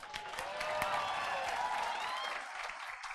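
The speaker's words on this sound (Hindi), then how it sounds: "सबसे पहले खुद के लिए एक जोरदार ताली बजाओ" A classroom audience of CA Foundation students claps loudly for themselves, a dense burst of hand claps that swells and holds for a few seconds before easing off, with faint voices mixed in.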